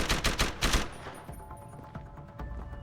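Bursts of machine pistol fire in the video game Deus Ex: Human Revolution, a rapid volley of loud shots at the start, then scattered fainter pops and hits trailing off.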